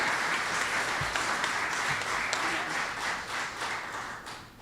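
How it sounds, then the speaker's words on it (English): Audience applause at a celebration-of-life gathering for a community theater founder: a steady wash of many hands clapping, moderately loud and sustained, fading slightly toward the end. "You can applaud"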